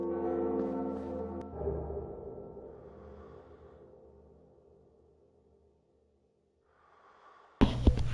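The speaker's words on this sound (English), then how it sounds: "Let's go ring this bell." A bell tolls in the dark fantasy game Dark Souls, one resonant strike whose deep ringing tone slowly fades away into near silence before a sudden loud burst of game sound at the end.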